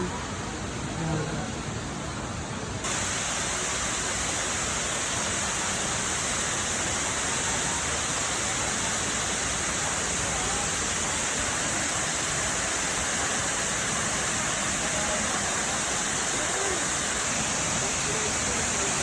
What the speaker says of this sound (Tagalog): So, ito yung falls.